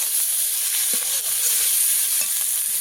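Spices and chili powder fry in a pan with a constant bright sizzle up close, while a spoon stirs through it with a few soft scrapes and knocks. Nobody speaks.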